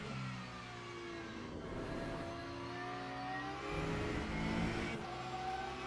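GT3 race cars circulating at Interlagos in Le Mans Ultimate, a steady layered engine drone with whining revs rising and falling as cars pass close, continuous and fairly loud throughout.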